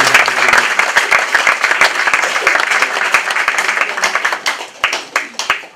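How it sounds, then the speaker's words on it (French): Congregation applauding at a baptism and testimony service, a dense burst of claps that thins into scattered individual claps toward the end, close and loud, with faint voices underneath. "on l'applaudit."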